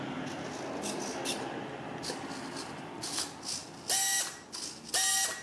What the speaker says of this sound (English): We've got a stripped servo, unfortunately,